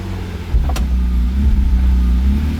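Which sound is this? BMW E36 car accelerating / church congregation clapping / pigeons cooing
BMW E36 car accelerating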